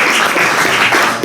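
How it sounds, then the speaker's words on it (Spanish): An audience at a book presentation breaks into loud, dense applause, a brief burst of many hands clapping close and full. "Fuerte aplauso."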